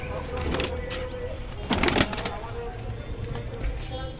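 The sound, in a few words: pigeons cooing in a loft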